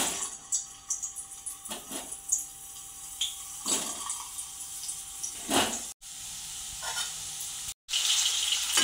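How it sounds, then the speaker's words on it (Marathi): Potatoes fry in two to three spoons of oil in a kadhai for dhaba-style dum aloo, giving a soft, steady sizzle with crackles and occasional stirring scrapes, quiet and close with no talking. "कढईमध्ये 2 ते 3 चमचे तेल टाकलेले आहे। आपण बटाटे फ्राय करून घेऊया।"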